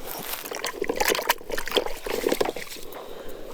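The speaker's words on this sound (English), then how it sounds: "I'm gonna go wash my hands." Water runs from a tap while hands are washed at an outdoor ham radio field day camp, a steady splashing trickle that rises and falls over a few seconds.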